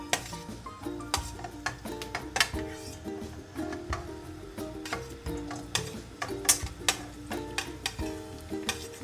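Ginger dropped into hot coconut oil for a soya chunk roast, with a steady soft sizzle under repeated sharp metallic clinks and scrapes of a utensil stirring in the pan, close and moderately loud.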